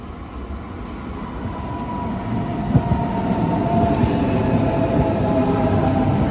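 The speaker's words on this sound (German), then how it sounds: "Einfahrt S-Zug nach Erding über München Hauptbahnhof im Abschnitt B und C." A Munich S-Bahn train pulls into a station platform with a low rumbling roll that swells gradually, a rising hum and a few metallic clacks as it nears, and no voices over it.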